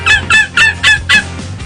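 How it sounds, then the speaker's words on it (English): Turkeys gobble outdoors in five quick, loud, close bursts, one after another, with no talking. "I'm surrounded by turkeys."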